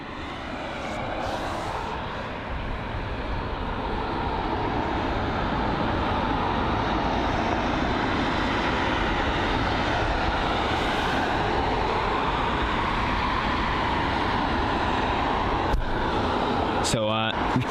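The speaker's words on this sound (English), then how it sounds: "So we've got an A330neo, or the A330-900, operated by Delta Airlines. And this here is arriving from Salt Lake City." Delta Airlines Airbus A330neo (A330-900) arriving at London Heathrow from Salt Lake City, a loud, sustained jet roar swelling and holding steady, with a voice talking over it.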